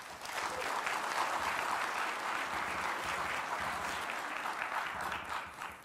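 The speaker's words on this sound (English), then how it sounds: "We could just take that applause and call it a day." Sustained applause from a conference audience at a hacker convention, welcoming three presenters to the stage; dense, steady clapping fills the room throughout without a break.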